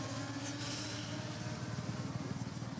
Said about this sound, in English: That's a nice little engine throb.